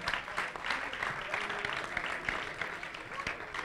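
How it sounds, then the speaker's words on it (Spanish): Applause from spectators at a mini sumo robot competition, a moderate clapping crowd that sounds somewhat distant, mixed with murmured voices and a few sharp knocks. "un fuerte aplauso"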